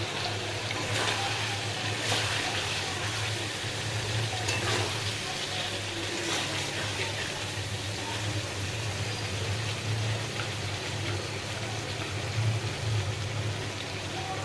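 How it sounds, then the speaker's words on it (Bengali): Paneer cubes fry in a pan with spices and Kashmiri chili, giving a soft, continuous sizzle and bubbling alongside a low steady kitchen hum, moderately close and with no speech. "পনিরটাও বেশ ভালোই ভাজা ভাজা হয়েছে।"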